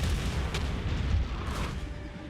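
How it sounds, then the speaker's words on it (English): Heavy rumbling artillery fire from a Total War battle, a dense low roar with a couple of distant booms layered over continuous battlefield noise. "That artillery, though, is horrific."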